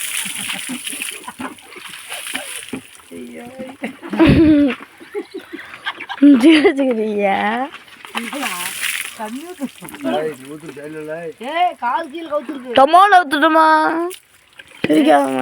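Water is poured over a cow being bathed, splashing and sloshing in bursts while people talk nearby in Tamil, the splashing loud and close at moments.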